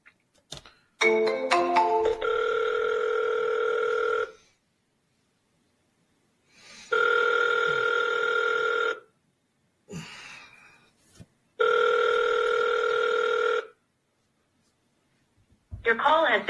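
A phone on an outgoing call gives a short run of stepped keypad-style tones, then three steady two-second rings separated by longer gaps of silence, clear and close with no talking.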